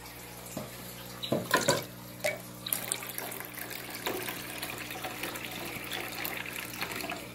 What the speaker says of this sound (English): I'll just give your other guys some more water.